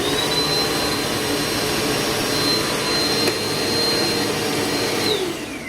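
Eureka PowerSpeed Pet upright vacuum cleaner running with a steady, loud, close whine and airy roar that holds constant, then eases slightly at the very end.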